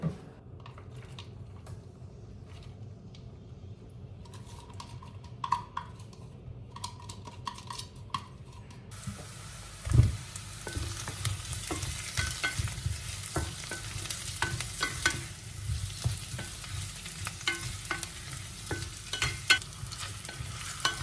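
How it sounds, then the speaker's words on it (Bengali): Potatoes frying in hot oil in a pan, with steady sizzling and frequent stirring scrapes and clinks of a utensil against the pan, close and continuous, with a sharp knock near the middle. "মোটামুটি আলুগুলো ভাজা হয়ে গেছে।"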